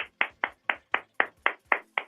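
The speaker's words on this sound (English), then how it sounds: "One man clapping." A single man claps alone in a bar comedy setting, nine sharp, evenly spaced claps at a steady, unhurried pace, close and distinct with silence between each.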